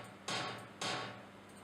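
Two sharp, noisy electronic drum hits from an Oberheim Expander synthesizer, about half a second apart, each with a short decaying tail, quiet and alone.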